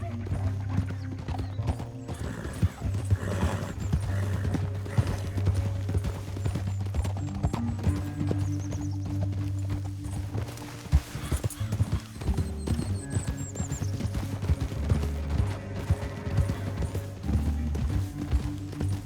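Horses gallop across open country in Red Dead Redemption 2, their hoofbeats a steady, close clip-clop rhythm over a low droning musical score, with a whinny partway through and occasional quiet game voices.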